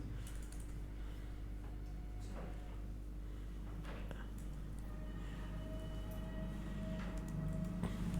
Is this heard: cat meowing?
no